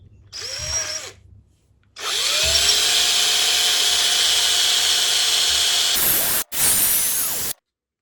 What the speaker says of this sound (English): I think one of the problems might be this cheap drill bit might be blunt.